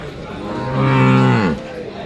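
A buffalo at a rural buffalo market in Chakan lets out one loud, close, drawn-out moo, with faint crowd chatter in the background.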